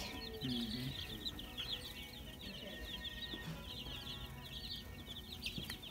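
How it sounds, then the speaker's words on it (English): Black chickens cluck and chatter nearby in a farm setting, a busy stream of short, repeated calls that runs throughout at moderate loudness with no voices. "You see the chickens? Oh, they're black."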